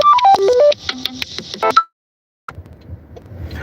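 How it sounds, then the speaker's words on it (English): A phone ringtone plays a quick run of electronic beeping tones and clicks, loud and close, then cuts off into silence before faint background noise returns. "Let me let this ringtone die"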